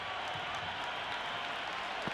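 Steady, dense crowd roar and applause from a virtual cricket stadium during an IPL match between MI and PBKS, a continuous wash of cheering holding level throughout with no clear talk.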